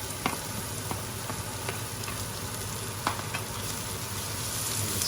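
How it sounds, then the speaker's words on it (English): Bacon, shallots and shredded carrot fry in a pan with a steady, close sizzle, while a utensil stirs them in scattered scraping taps throughout. "Stir it around, because even though it's shredded, carrot needs a little bit of cooking to ease the softness out of it."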